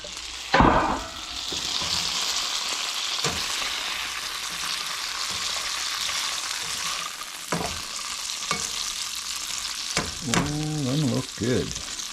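Potatoes frying in lard in a pan, a steady close sizzle with a few stirring scrapes and clatters and a brief burst of rising and falling tones near the end.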